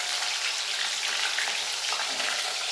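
Corn kernels frying in hot oil over a low gas flame, a steady dense sizzle that stays close and even throughout without any voices.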